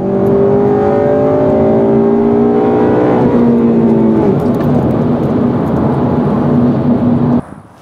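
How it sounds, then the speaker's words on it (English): Honda car engine with drive-by-wire throttle, revs audibly falling as the clutch is let out, a loud, steady engine tone that sags in pitch midway then settles lower, with no talking. "Notice how letting the clutch out causes the RPM to drop."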